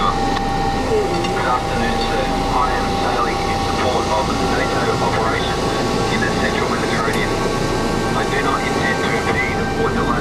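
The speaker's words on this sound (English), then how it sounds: "A plane overhead, searching the water." An aircraft flies low over open sea, searching the water: a steady, rumbling engine drone holds throughout at an even loudness.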